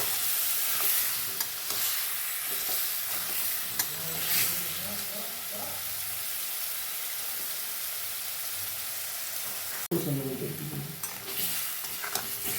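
Potatoes and soaked ground spices being stirred in a frying pan for aloo dum, a steady sizzle with repeated scraping strokes throughout and a louder clatter near the end; no one speaks.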